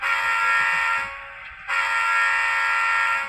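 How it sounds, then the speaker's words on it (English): An HO scale model diesel locomotive sounds a Leslie RS3L horn: a loud, steady, buzzy chord that cuts out briefly partway through and then resumes, with no talking over it. "They got the Leslie RS3L on this one."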